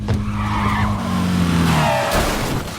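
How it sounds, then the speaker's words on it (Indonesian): A car braking suddenly in a film scene, loud screeching tire skid with shifting squeal tones across the whole stretch, close and dominant, no voices. "tiba-tiba Matt mengerem mendadak, membuat pengendara motor tersebut terguling"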